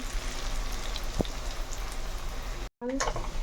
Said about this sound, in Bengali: আলুর বড়াটা ভাজা হয়ে গেছে এরকম লাল লাল করে আমি ভেজে নেবো